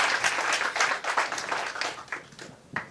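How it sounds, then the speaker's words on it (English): A small audience after a show gives a round of applause, loose and uneven clapping with distinct individual claps that thins out over a few seconds. "Give her a round of applause."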